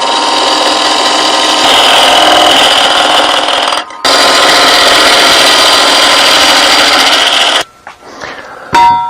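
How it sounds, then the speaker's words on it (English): Tenon being cut into a wooden blank spinning on a lathe, ready for a Nova G3 chuck: a loud, steady broadband shaving roar with a brief break near four seconds, then fading to scattered faint scrapes at the end. "the first thing I'm going to do is just cut a tenon on here, so it'll go in my chuck."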